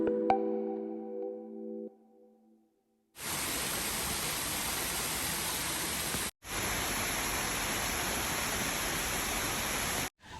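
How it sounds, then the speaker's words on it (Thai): Waterfall at Yangmingshan: a loud, steady rushing roar of falling water begins a few seconds in after a brief tonal sound, cuts out for an instant, then continues close and unbroken to the end. "นี่นะคะน้ำตกสวยมาก"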